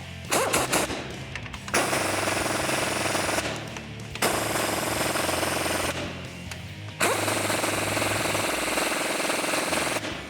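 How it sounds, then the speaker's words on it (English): An impact wrench fitted with a 19mm socket tightens suspension bolts on a Jeep Wrangler YJ, loud rattling hammering bursts in three long runs separated by short pauses. "we're going to take a 19mm socket on an impact"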